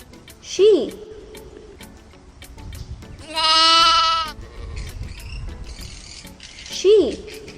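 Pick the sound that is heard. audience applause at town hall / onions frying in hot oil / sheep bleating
sheep bleating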